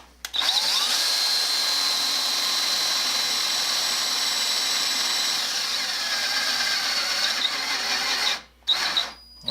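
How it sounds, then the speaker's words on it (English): An old battery-powered drill runs up to speed and whirs steadily at close range for about eight seconds with a high whine, then stops briefly and restarts in short bursts. "Well, it's drilling,"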